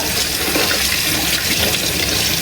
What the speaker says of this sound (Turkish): burada yıkıyorum elini